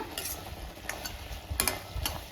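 Jaggery syrup and grated coconut stirred in a pan for a kozhukattai filling, a few close, sticky scraping strokes of a spoon with a faint sizzle underneath.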